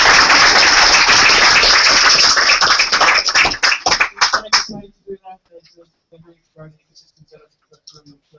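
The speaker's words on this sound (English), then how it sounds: "give a quick round of applause to those three guys" A crowd at an education technology pitch event (Optus SydEduTech Pitchfest 2013) claps loudly and densely for three pitchers, then thins into scattered claps that die out after about five seconds, leaving faint room noise.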